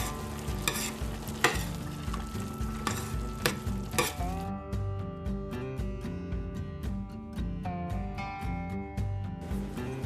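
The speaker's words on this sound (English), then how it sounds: "let it simmer for a little bit" Chili simmering in a pot, stirred with a spoon that scrapes and knocks repeatedly in an even rhythm over a soft bubbling and sizzling bed, close and fairly quiet.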